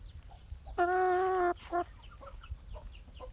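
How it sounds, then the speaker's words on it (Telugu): A female Giriraja hen, recently thin from poor health, gives one long drawn-out clucking call followed by a short second cluck, close and clear over a quiet farmyard background. "ఇది గిరాజ్ అండి గిరాజ్ కోడి"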